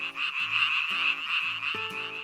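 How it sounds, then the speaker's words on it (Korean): A dense chorus of Korean tree frogs near flooded rice paddies, with a bright, steady trilling wall of calls and lower croaks pulsing in quick repeated bursts; clear and fairly near, with no talk. "지금 듣는 청개구리의 합창을 저는 한국의 소리라고 부릅니다"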